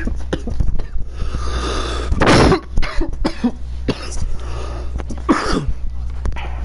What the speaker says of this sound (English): I just decided to choke on my cough there for a minute.